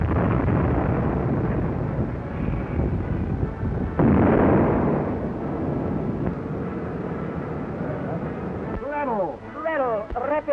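Australian naval guns fire shots, a loud deep blast with a rumbling roll-off, followed by a sharper report and a trail of ringing and whistling tones later on, while voices talk under the noise.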